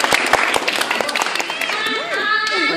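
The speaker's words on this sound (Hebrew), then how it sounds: "עוד כפיים לאור, בואו נקבל אותו" Guests at a Jewish wedding in a synagogue clap and cheer while the officiant speaks over them, scattered applause with crowd noise under a loud amplified voice.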